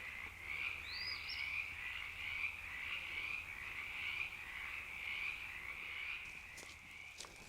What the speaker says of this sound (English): Listen to all the frogs coming to life.